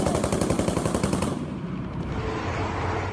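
Machine gun fire in war footage of Ukrainian ground forces fighting Russian troops, heard as a loud, rapid, continuous burst of shots through the first half, then dense ongoing gunfire and rumble with no talk.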